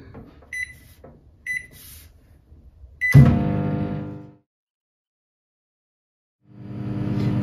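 A microwave oven drying flowers gives a few short beeps, then its door clunks and the oven hums steadily for about a second before stopping; after a silent pause the hum starts again, close and alone with no talking.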